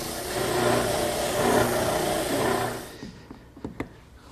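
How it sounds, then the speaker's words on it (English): An oscillating spindle sander smooths the rough sawn edges of old pine, a steady loud whirring grind for about three seconds before it cuts off, leaving a few faint knocks. "I'll clean up the rough edges left by the saw with my oscillating spindle sander."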